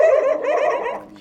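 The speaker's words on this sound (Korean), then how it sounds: "어느 날 길 잃은 강아지가 집으로 들어왔습니다." A stray puppy on Udo island off Jeju gives a close, loud whimpering yelp that wavers for about a second, then trails off.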